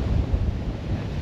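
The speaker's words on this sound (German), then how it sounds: "Der Wind hört wohl heute auch noch nicht auf." Strong wind buffets the microphone outdoors on a stormy day, a loud rumbling roar with gusty surges that carries on without a break and with no voices.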